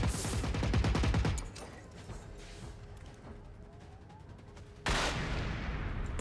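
Grenade blasts and rapid gunfire from the Generation Zero video game, a loud dense burst of shots at the start, a quieter stretch of scattered distant fire, then another heavy loud burst near the end.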